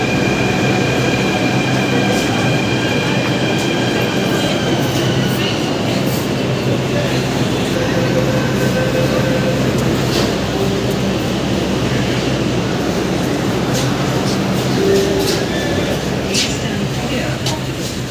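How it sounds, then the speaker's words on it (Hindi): Metro train inside Anand Vihar metro station, a steady loud rumble of the train running with faint squeals and clatter throughout, no talk. "ये मेट्रो"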